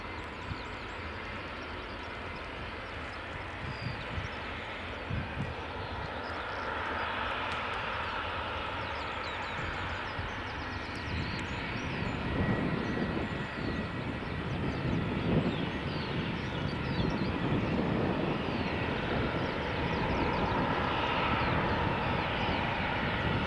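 Boeing 757 jet engines spooling up at an airport, a broad steady roar and whine that builds and grows louder partway through, heard from a distance with no talking.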